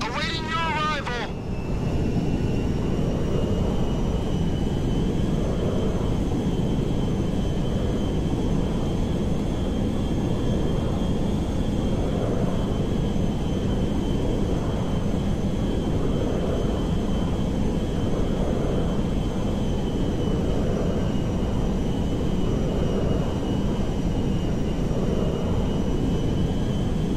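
A jet aircraft in the GTA 5 video game flies steadily as a loud, continuous engine roar runs for nearly half a minute with a faint high whine above it. No one speaks over it.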